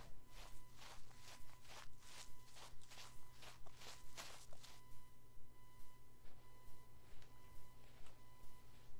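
Footsteps in a video game, a steady run of soft repeated steps across the full stretch over a constant low background hum, with no talking.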